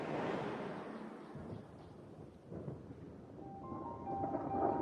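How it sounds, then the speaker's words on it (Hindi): Monsoon thunder rolls as storm clouds gather over dry African grassland, a low, continuous rumble that swells and fades without a sharp crack, with no voices. "आसमान बादलों से घिरने लगा है और बिजली भी गरजने लगी है।"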